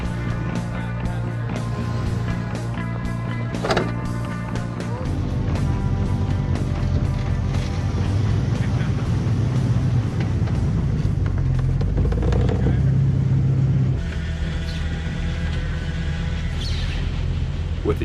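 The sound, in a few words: off-road 4x4 vehicle driving on trail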